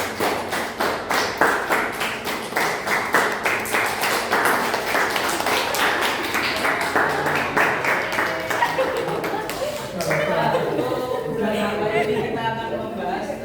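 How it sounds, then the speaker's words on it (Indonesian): A classroom of vocational high school students claps together in quick, rhythmic bursts of sharp, close hand claps for about ten seconds, with a voice speaking over them and continuing after the clapping stops. "Coba tepuk 1, tepuk 2, tepuk 3, tepuk 4, tepuk 5."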